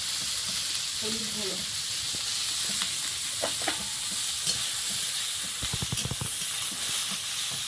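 River fish sautéing in a pan with salt and ginger paste, a constant bright sizzle and hiss with occasional spatula scrapes and knocks, close and steady, no talking.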